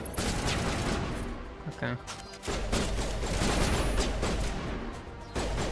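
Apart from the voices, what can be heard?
gunfire in the video game Mass Effect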